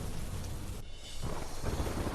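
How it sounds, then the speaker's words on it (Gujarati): Heavy monsoon downpour over rural villages near Manavadar in the Gir area of Junagadh, Gujarat, a dense, steady roar of rain with a brief dip midway before the wash returns, fairly faint and continuous with no voices. "ગીર પંથકમાં ધોધમાર વરસાદ, માણાવદરના ગ્રામ્ય વિસ્તારોમાં ધોધમાર વરસાદ"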